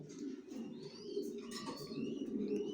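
Racing pigeons coo softly in a loft in low, rolling murmurs, several birds overlapping close by, with faint chirps above.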